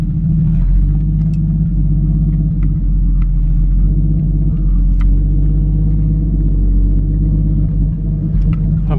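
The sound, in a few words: 1937 pre-war car driving, doing a three-point turn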